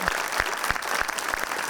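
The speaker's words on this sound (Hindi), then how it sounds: "कोई जरूरत नहीं है तालियों की" Studio audience applause on a comedy talk show set, a steady dense wash of clapping filling the room at close range, with no voices over it.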